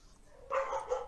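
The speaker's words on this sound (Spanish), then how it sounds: "Los perros se escuchan bien" A single short dog bark sounds at a moderate distance, one quick burst over a faint background.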